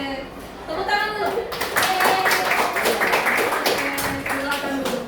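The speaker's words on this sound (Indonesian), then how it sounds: "Tepuk tangan dulu." Pupils in a classroom clap their hands together in a sustained round of applause, a dense patter of claps with children's voices and chatter underneath.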